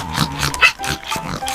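A pig makes a few short, close grunting oinks in quick, uneven bursts.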